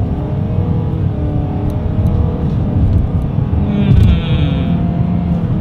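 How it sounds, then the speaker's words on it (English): A 2020 Nissan Sentra accelerates hard along a straightaway, its engine note climbing steadily from inside the cabin with a loud, continuous rising whine over road rumble. "let's see how quickly we can get this one here up to speed"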